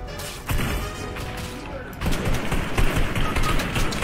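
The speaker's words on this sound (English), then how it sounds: "Charge shotgun shot. Takes too long to charge up." Charged shotgun fire in Fortnite Battle Royale: a sharp blast at the half-second mark, then a heavier burst of rapid, crashing shots, with a player talking over the game sounds.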